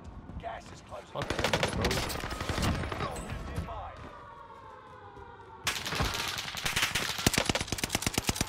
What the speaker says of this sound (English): Y'all shooting me?